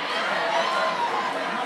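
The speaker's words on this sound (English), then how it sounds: "from seeing the reactions that's coming from the crowd" A crowd of university students at a school event gives off a steady loud wash of chatter and reaction, with no single voice standing out.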